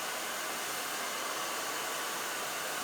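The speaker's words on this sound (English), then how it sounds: "she never puts down the blow dryer" A hair dryer runs in a steady, loud hiss while a round brush is pulled under tension to dry and smooth hair. The airflow noise holds constant throughout, with no voices.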